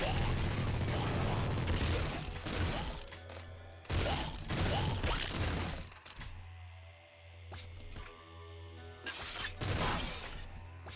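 Bursts of rapid, continuous minigun fire in Nuclear Throne, several long loud volleys separated by brief lulls filled with mechanical whirring and debris clatter.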